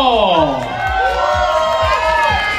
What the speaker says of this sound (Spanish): A ver, el aplauso para esta tanda. ¿Dónde está la algarabía del público?